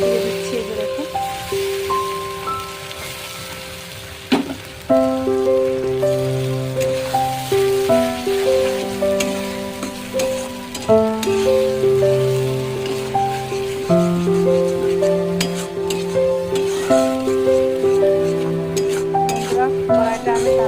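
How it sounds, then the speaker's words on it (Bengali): Onions and spices fry in a karai (wok) with steady stirring and sizzling, heard under continuous background music for about twenty seconds. "দেখুন পেঁয়াজটা ভাজা হয়ে গেছে অনেকটা। আমি এখানে এই মশলাগুলো সম্পূর্ণ দিয়ে দিচ্ছি।"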